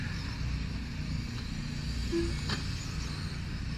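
Radio-controlled 4WD short course trucks racing around a track in an A-main final, their motors giving a steady, continuous engine-like drone at moderate distance with no pauses.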